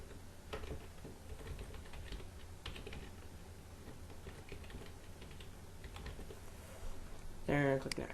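Close, quick keystrokes on a computer keyboard tap out a short name during Windows 8.1 setup, irregular clicks running under faint background noise with a brief tonal beep near the end.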